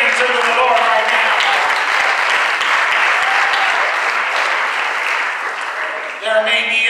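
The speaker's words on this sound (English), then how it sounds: "If you clap your hands unto the Lord right now." A church congregation applauds in a steady, dense wash of clapping hands that carries on for several seconds, then thins near the end as a few voices rise.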